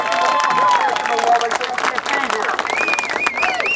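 Applause and cheering from a crowd at an outdoor veterans march on Valley Forge Park, steady and fairly loud, mixed with voices and whistles rising over the clapping.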